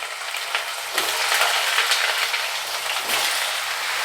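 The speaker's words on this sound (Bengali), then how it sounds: "এবার পেঁপেগুলো আমি এতে ছেড়ে দেবো।" Pieces of papaya dropped into hot oil already seasoned with ginger, giving a dense, steady sizzle and crackle up close, with a couple of slightly stronger surges as the pieces land, no voices.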